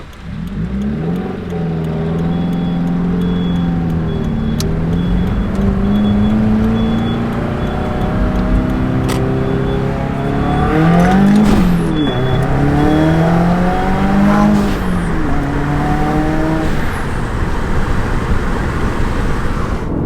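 A manual car with under 500 horsepower accelerates hard and is rowed through the gears. The engine note climbs and drops at each shift, loud and close, over a steady road rumble.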